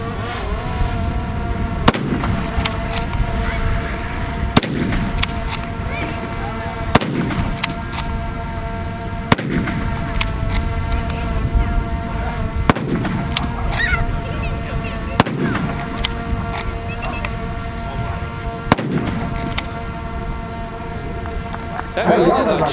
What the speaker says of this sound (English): So this is our 303 Lee Enfield rifle.